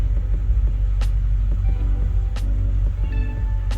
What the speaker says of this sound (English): the car's fully warmed up and it's just sitting on the driveway idling